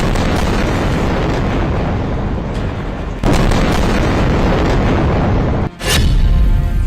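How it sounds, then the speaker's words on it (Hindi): Explosions from Israeli strikes on Gaza, a dense, continuous, loud rumbling blast with abrupt jumps in intensity and a sharp burst near the end. "इजराइल के हमलों में फिर कांप उठा गाजा।"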